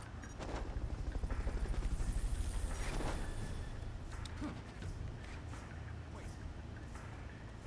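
A helicopter in the video game Metal Gear Solid Peace Walker makes a steady rotor drone that swells and then settles into a continuous background rumble, quiet and mixed with other game noise.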